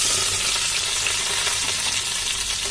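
Mushrooms roasting in a pan for a cashew mushroom masala, giving a steady, close, even sizzle that hisses without pause and with no talking.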